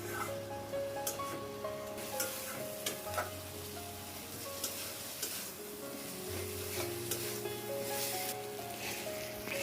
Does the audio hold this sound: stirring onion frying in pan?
yes